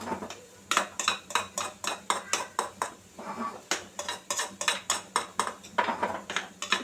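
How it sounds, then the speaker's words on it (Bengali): A cooking pot of polao on the stove is repeatedly turned and pressed down, producing a steady train of close, rhythmic metallic scrapes and knocks, roughly two per second, with a short pause midway. "আমি কিন্তু হাঁড়িটাকে ঘুরিয়ে ঘুরিয়ে চেপে চেপে এটাকে দমে বসাচ্ছি"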